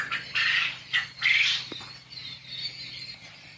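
Many birds crowded into a small shed squawk in loud, harsh bursts. A few overlapping calls come close together, then a quieter chattering continues behind them.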